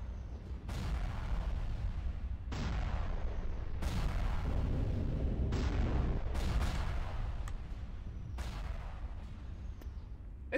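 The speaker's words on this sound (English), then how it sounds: "Alright, missiles away." Missiles launched and exploding in a Star Wars strategy video game: a string of heavy booming blasts, about six sharp bursts each trailing into a rumble, over a steady low roar, loud and without speech.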